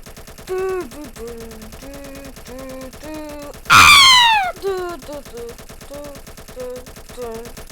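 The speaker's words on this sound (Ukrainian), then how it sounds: "Добре, стріляємо туди, стріляємо туди, туди, туди." Gunfire rattles in a Roblox war game, a brief loud burst of shots amid tonal game sounds and effects, with voices faintly heard in the background.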